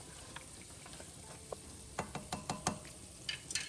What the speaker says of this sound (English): we're going to quickly be stirring that around